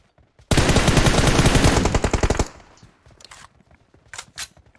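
Rapid automatic gunfire in a competitive shooter game scrim, a loud, close, sustained burst lasting about two seconds that tails off into scattered fainter shots and clicks.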